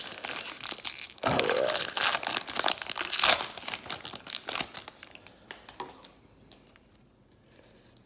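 Crinkling plastic wrapper and cardboard being torn open on a 2018 Topps Triple Threads baseball hobby box, loud dense crackling and ripping in bursts that fade to quiet handling, with a brief spoken word.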